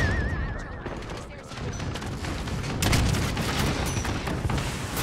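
Rapid bursts of gunfire and booming bomb blasts from Call of Duty: Modern Warfare, dense and continuous, with a person talking over the battle noise.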